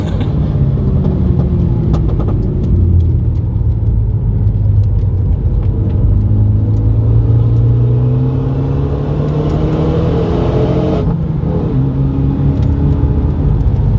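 An older Renault Megane RS on a race track, heard from a loud, close engine that rises and falls in pitch through braking and acceleration, with no one talking over it.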